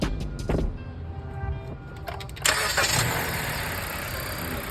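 A Dodge Avenger 2.4 cranks with a few starter pulses, then fires and catches, revving up loudly before settling into a steady close idle.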